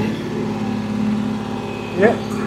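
A diesel tractor engine runs steadily after being switched into four-wheel drive, with a low even rumble and a slight rise in loudness near the end as someone talks over it close by.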